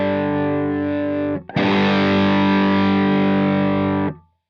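An electric guitar chord played through a Truetone VS-XO dual overdrive pedal rings out distorted, is briefly cut, then struck again and held thick and saturated for nearly three seconds before stopping abruptly.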